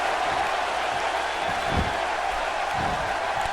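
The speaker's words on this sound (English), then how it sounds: "Crowd here in Dallas hyped up here" Wrestling arena crowd in Dallas at an elite tournament match, a steady loud roar of cheering and noise with no talk, a couple of low thumps rising out of the wash.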